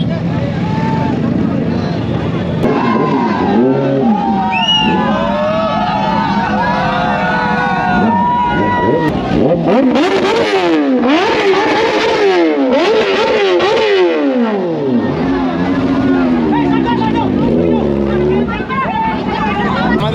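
Independence Day bike rally crowd with many motorbikes revving and passing, engine pitches rising and falling in sweeps, loud and close, with voices talking and shouting throughout.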